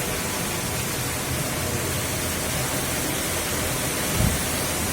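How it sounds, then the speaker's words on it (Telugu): Heavy rain pours steadily in Palamaner, a dense, unbroken broadband hiss of falling water with a brief low thump near the end, no voices present. "ఇదేం వానరా స్వామి, సూర్యుడే కనిపించకుండా అయిపోయినాడు చూస్తా."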